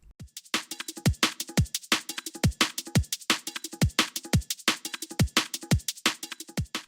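A punchy drum break loops steadily, with deep kicks, crisp snares and busy layered percussion in a repeating groove.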